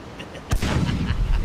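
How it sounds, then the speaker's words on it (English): A starboard ship cannon fires in Blackwake, a single sharp loud boom followed by a rumbling tail, with a voice around it. "The starboard cannon. Cannonball's ready. Fire."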